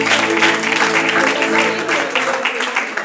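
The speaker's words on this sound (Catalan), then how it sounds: "Oriol Junqueras, un aplaudiment. Sí, senyor." Audience applause at a poetry reading in Santa Coloma de Farners: steady, dense clapping at full volume for about three seconds, with a faint tonal hum underneath.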